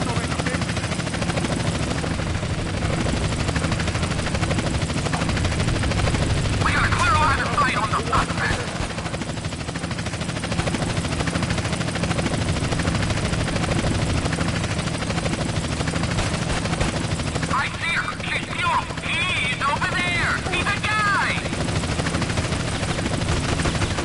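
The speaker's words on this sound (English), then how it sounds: "I don't care if you have a helicopter." Steady loud helicopter rotor drone in Grand Theft Auto: San Andreas on PS4 fills the whole stretch, with game gunfire and effects layered over it and a voice talking throughout.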